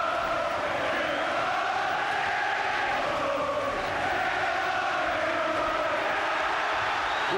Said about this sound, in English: You can hardly hear yourself thinking here now. The crowd trying to urge Collins through this last half a minute.